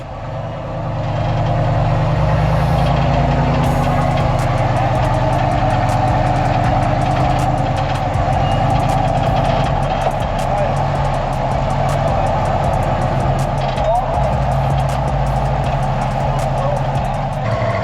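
A rock crawler engine idles and rumbles steadily close by on rocks at Sand Hollow, revving slightly as it creeps, backs up and repositions, with faint clicks and scrapes over the constant drone.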